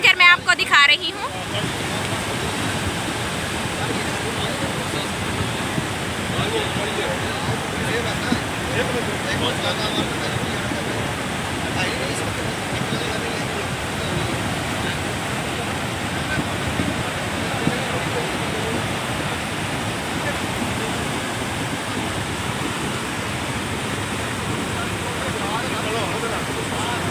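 The Nuggal khad, a swollen mountain stream near Palampur, rushes in a loud, dense, continuous roar of turbulent water that fills the whole stretch without pause.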